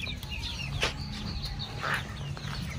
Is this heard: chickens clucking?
yes